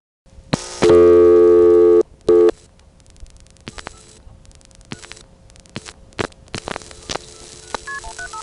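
A 1978-1980 coin phone in Greenville, North Carolina, dialing a 1xx code: loud, close touch-tone beeps in a quick sequence, then line clicks and static with faint tones.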